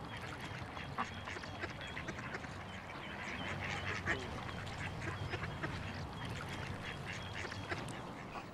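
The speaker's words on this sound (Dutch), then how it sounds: "Er zijn ook een paar ganzen gekomen." Faint ducks and geese quacking and honking on the water while bread is fed to them, scattered calls running throughout at low level, with some speech mixed in.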